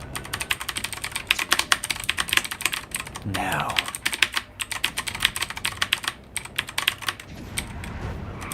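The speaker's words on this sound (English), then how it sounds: "Keyboard ASMR when?" Rapid, crisp computer keyboard typing runs almost continuously, close and clicky, with a brief spoken word and a short swooshing game sound partway through.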